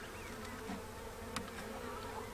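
Honeybees buzz densely inside a hive, a constant close drone with a faint click near the middle.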